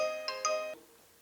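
A short electronic phone ringtone, a bright melodic tone of a few quick notes that cuts off abruptly, followed by quiet.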